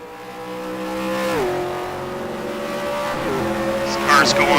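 A race car screams along a straight at around 250 km/h, its engine note loud and close, dropping in pitch at each shift, with a tire squeal near the end under a commentator's voice.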